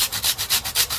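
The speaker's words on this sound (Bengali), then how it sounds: "গুড় গ্রেট করে নেব" Jaggery is grated by hand for Bengali rice-flour fritters, a close, rhythmic scraping of about five quick strokes in one second.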